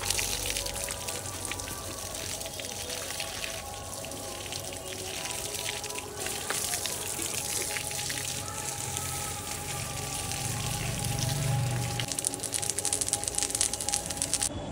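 Water from a motor pump pours steadily onto garden plants, a continuous splashing, hissing wash that stays loud and close throughout with no pauses.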